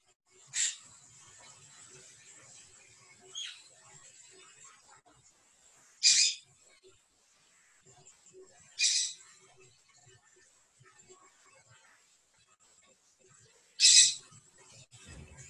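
Sharp, high bird chirps through an open microphone on a Zoom call come in a few separated bursts over a quiet, faintly hissing background.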